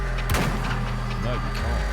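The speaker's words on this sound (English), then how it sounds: "I wonder if we can actually shoot the hives." Gunshots fired at hives in the PC game Weird West: one sharp blast near the start and a couple of lighter pops afterward, with a steady low drone of game sound beneath.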